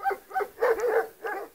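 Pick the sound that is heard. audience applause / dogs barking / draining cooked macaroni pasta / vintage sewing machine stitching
dogs barking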